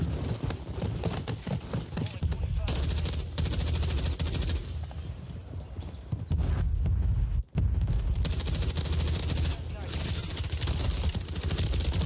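Rapid bursts of MCW assault rifle fire crackle in a Call of Duty: Resurgence match, loud repeated volleys with short pauses between them and a brief dropout midway, mixed with player voices talking over the shooting.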